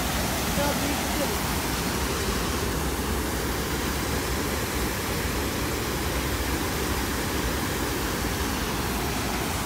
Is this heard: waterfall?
yes